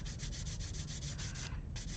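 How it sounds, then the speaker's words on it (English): Sandpaper rubs a small Gunpla plastic model part in quick, even back-and-forth strokes, a close dry hiss that pauses briefly near the end before resuming. "let the sandpaper do the work"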